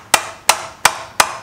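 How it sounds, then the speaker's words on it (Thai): Pointed wooden stakes are hammered into a banana tree trunk with four sharp, evenly spaced strikes, each a close, loud knock with a short decay and no talking. "เราจะมีไม้นะครับ4อันที่แบบทำปลายแหลมมาแล้วจะมาตอกเข้าไปในนี้แหละ"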